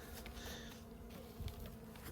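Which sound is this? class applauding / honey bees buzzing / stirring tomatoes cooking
honey bees buzzing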